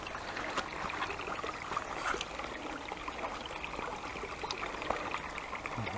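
Stream water babbles and trickles steadily nearby while the stream is being crossed, a continuous gurgling wash with small splashes and no talk.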